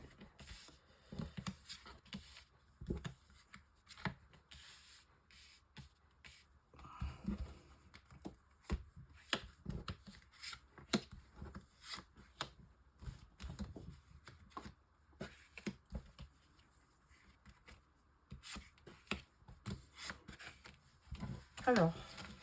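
Tarot cards are shuffled and dealt for a nine-card spread, giving soft, rapid riffling and patter with sharp taps and slaps as cards are laid down, close and quiet throughout.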